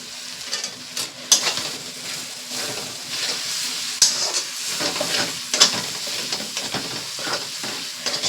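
Onion, turmeric, salt and tomato masala for a village-style desi chicken curry sauté in a pan, a steady close sizzle with periodic scraping stirs and bursts of hissing.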